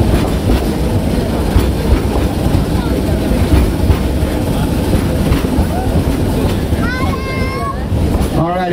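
A narrow gauge train at Roaring Camp rumbles steadily with rattling wheels and wind noise, close and loud throughout, and a voice speaks briefly toward the end.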